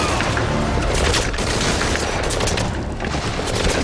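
Heavy automatic gunfire and booming blasts from a Metal Gear Solid 5 firefight, loud and continuous with rapid overlapping shots throughout.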